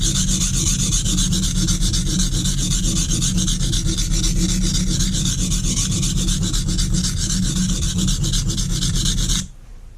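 A chef knife is stroked across a Norton Crystolon combination oil stone in a continuous, close, loud rasping scrape that stops abruptly near the end.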